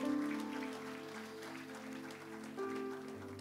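A church congregation at a Christmas celebration claps together over sustained music, with the applause spread evenly and moderately loud, a held organ-like tone running underneath throughout.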